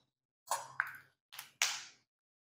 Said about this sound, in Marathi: बघा हे शेंगदाणे तडतड उडायला लागले की ह्याला टेम्परेचर प्रॉपर मिळालेलं असतं